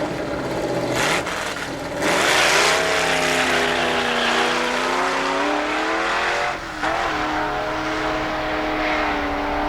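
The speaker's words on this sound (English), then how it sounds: "Listen to that long slipping tires in second gear there." Drag car engine from a 1973 Plymouth Duster roars loudly at the strip as its tires spin and slip in second gear, a sustained revving wail with shifting pitch and tire noise, close and continuous.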